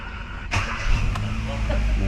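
A 2015 Kia Rio engine cranks and catches partway through, then settles into a steady low idle rumble, close and fairly loud, with voices speaking over it.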